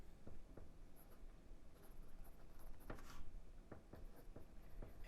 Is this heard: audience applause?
no